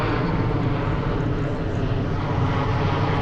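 Airplane passing overhead near Heathrow Airport, a loud, steady broadband engine roar that fills the whole stretch without a break and without talk.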